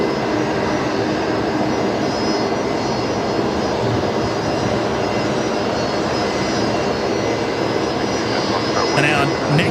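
A jet airliner rolls out along the runway at Brisbane Airport after landing, a steady broadband engine roar held at an even level throughout, with a brief sound near the end.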